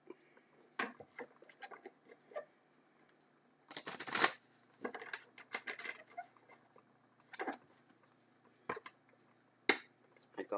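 Tarot cards are shuffled in quick bursts of riffling and flicking, near and fairly soft, with pauses between rounds.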